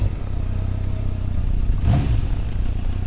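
A 1988 Kawasaki Voyager XII (ZG1200B2) touring motorcycle idling nearby, a steady low rumbling engine note with a brief rise in the middle.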